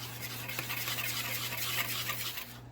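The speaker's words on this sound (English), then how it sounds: "Now give it a mix." Whisk working through dry baking ingredients of flour, baking powder, baking soda and salt in a bowl, a steady close scratchy brushing with a low hum underneath.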